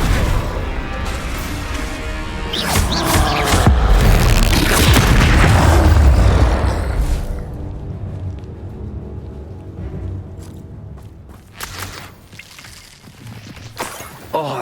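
Explosive Confringo and Bombarda spells go off in Hogwarts Legacy, heavy booming blasts and crashing impacts rolling over several seconds, then fading into quieter scattered hits and rumble.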